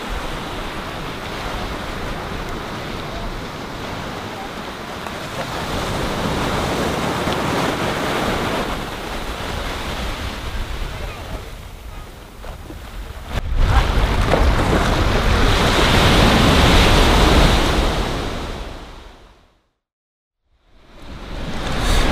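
Sea waves and surf wash and rush steadily, loud and close, with heavy wind buffeting the microphone; the roar swells louder midway, then drops to near silence briefly before returning.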